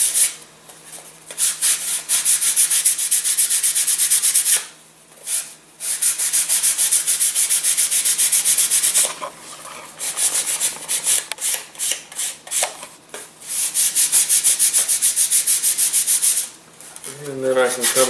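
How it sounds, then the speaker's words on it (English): Steady rasping strokes of sandpaper on a wooden rocket glider wing, loud and close, continuing in long bursts with a few brief pauses between. "And then I'm going to sand everything down here."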